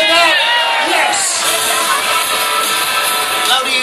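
A crowd cheers and whoops loudly at a Ford headquarters precision driving show, a continuous wash of shouts and high-pitched yells swelling near the start and holding.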